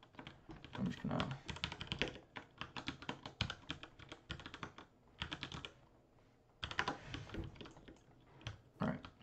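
Keys on a computer keyboard clatter in quick irregular bursts with short pauses while someone types text onto a sign in a video game. The typing is close and fairly soft.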